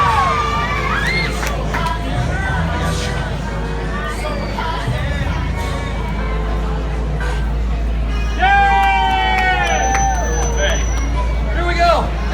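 Street entertainment show crowd cheering, whooping and shouting, with children's shrieks and babble over a constant low hum, and loud excited voices near the end.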